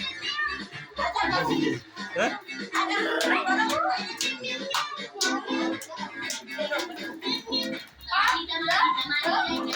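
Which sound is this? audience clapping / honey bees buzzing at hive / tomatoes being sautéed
audience clapping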